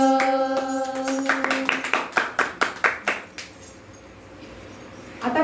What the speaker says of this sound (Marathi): आता झिम्मा म्हणजे एकमेकींना टाळ्या देत केलेलं पदन्यास आणि नृत्य.